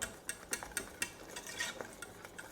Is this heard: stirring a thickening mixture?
yes